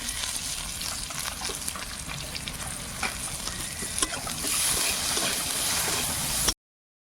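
Whole cumin, chopped garlic and onion fry in hot oil with a dense, continuous, close sizzle and stirring that briefly grows louder before cutting off abruptly.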